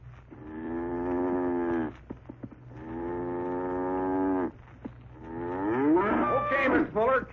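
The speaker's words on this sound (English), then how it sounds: "cow's bedded down for the night" A cow in a 1942 radio drama lets out three long, loud moos, the last one rising and breaking, with short pauses between them.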